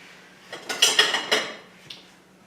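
Scallops are gently stirred with cream in a bowl, a spoon clinking against the dish several times in a quick cluster, then once more after a short pause.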